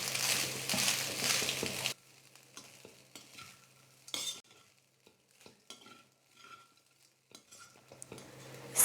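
Cooked rice is stirred into a coconut mixture in a pan to make coconut rice for a lunch box. A loud, busy sizzle and stir comes first, then quieter scattered scrapes and clicks of the spoon against the pan.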